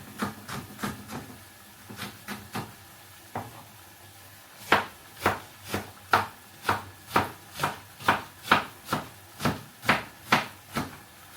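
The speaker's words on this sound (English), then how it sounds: "At this point you have to cut the onions very tiny" A knife chops onions very finely on a board, giving sharp, close, rhythmic strokes, a lighter irregular run at first, then a steady, louder series of evenly spaced chops.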